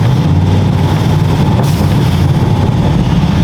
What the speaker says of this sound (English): Like that's no brakes. That was just engine braking through the gears.